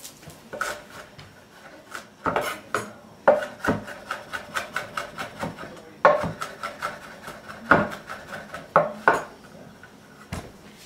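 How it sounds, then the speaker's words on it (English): A fork clinks and scrapes rhythmically against a bowl while mixing three crushed garlic cloves into a Vietnamese pepper sauce for langoustine marinade, with sharp repeated taps and rubs, close and clear, no talk. "putting it all in the sauce, mixing it up with a fork"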